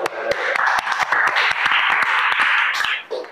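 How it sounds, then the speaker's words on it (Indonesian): Students applaud a group in a classroom, a burst of scattered hand claps with sharp individual slaps running steadily for about three seconds before tapering off, with voices murmuring underneath. "Beri tepuk tangan dulu"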